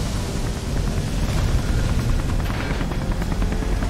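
Helicopter rotor noise in the Beyond: Two Souls video game, a dense, steady broadband roar with faint rhythmic chop, loud and continuous throughout with no one talking.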